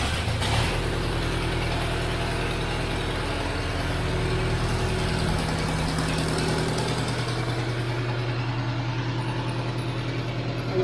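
A 2001 Chevrolet Tracker with a loss-of-power problem idles steadily up close after starting, its low engine drone and rumble continuous and fairly loud throughout with no talk.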